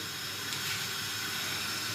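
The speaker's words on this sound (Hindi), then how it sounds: "अब इसको उबाल आ गया" A pot of water for sarson ka saag comes to a steady boil, giving a continuous hissing, bubbling rush with no talking over it.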